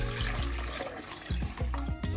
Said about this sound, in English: I'll put a liter of water in the pot